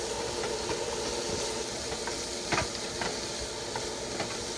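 An omelet with meat and mushrooms sizzles in a pan, a steady frying hiss with occasional soft scrapes and stirring clicks, fairly quiet and with no voices.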